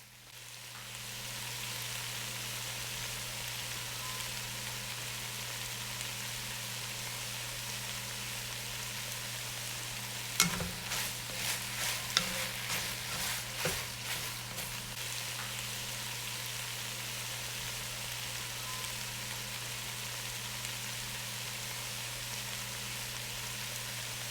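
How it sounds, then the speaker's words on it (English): Bitter melon (ampalaya) with shrimp sautéing in a pan gives a steady, fairly soft sizzle, with a short run of clattering stirs near the middle. "Now add the ampalaya, and then you're going to cook this for about 3 minutes."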